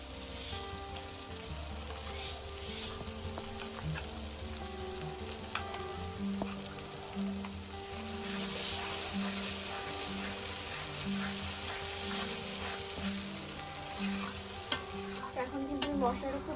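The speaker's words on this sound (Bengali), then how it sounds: "এখন কিন্তু মশলাটা খুব ভালো করে কষিয়ে নিচ্ছি" Spice masala with tomatoes and Kashmiri chili powder sizzles and fries in a pan while being stirred, a steady crackling hiss with faint background tones and no talking.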